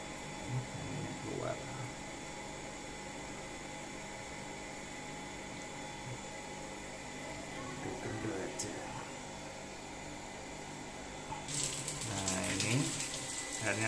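A Sanyo water pump runs with a steady hum while water flows, a continuous rushing noise that surges louder near the end, with people talking over it.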